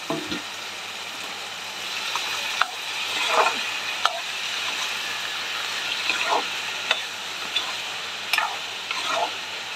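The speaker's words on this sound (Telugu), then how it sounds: "టమాటాలను కూడా వేసేస్తున్నా." Tomatoes added to softened tender bitter gourd frying in a pan for a curry keep up a steady sizzle, with occasional spoon clinks and stirring scrapes.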